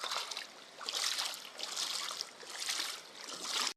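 River water trickles and babbles steadily close by, a soft continuous flow that swells and eases in gentle waves with no one speaking.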